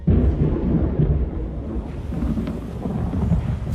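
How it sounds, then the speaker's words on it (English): Thunder rumbles through a rainstorm in the video game The Elder Scrolls Online, with loud low rolling booms over a steady wash of rain. "storm is coming."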